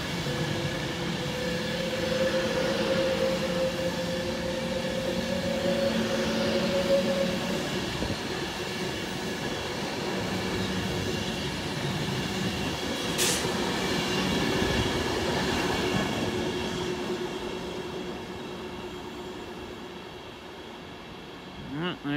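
A Class 390 electric train, unit 390-132, passes through Stafford station on the West Coast Main Line, a steady loud rumble with wheel hiss and a brief squeal, lasting throughout and easing slightly at the end.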